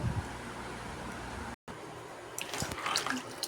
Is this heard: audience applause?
no